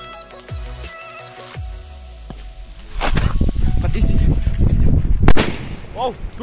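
A firecracker packed with white colour powder goes off in a loud, sustained burst of crackling blasts lasting a few seconds, preceded by faint background noise.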